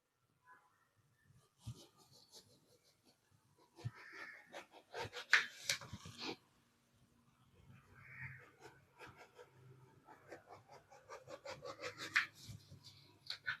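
A knife slices brinjal (eggplant) in short bursts of close, scraping cutting strokes separated by quiet gaps, fairly faint overall.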